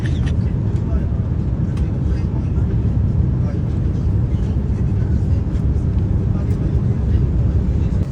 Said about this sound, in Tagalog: pababa na ang eroplano namin sinasakyan patungo sa Naiya at nasa Manila na kami guys